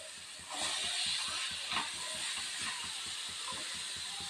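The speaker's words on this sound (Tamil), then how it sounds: "இப்போ நம்ம கத்திரிக்காய் ஆட் பண்ணிக்கலாங்க." Brinjal dropped into a hot oiled pan while cooking a Tamil brinjal podi curry, giving a steady loud sizzle and hiss that starts abruptly and continues evenly throughout, with no talk.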